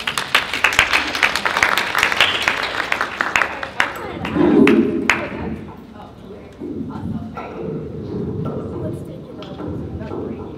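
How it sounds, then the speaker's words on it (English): Audience applause at a mindful activism panel during a college eco festival: a dense burst of clapping fills the first few seconds, then fades as a voice speaks over the quieting room. "Can we give a round of applause?"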